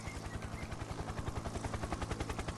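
Helicopter in a farming video game on Xbox Series S, a steady rapid rotor chop pulsing evenly throughout at moderate loudness with no talk over it.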